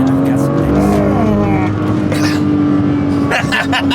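A Porsche exotic sports car's engine drones loud and close with a steady low tone and rising, shifting pitch, under layered background sound and occasional noise bursts.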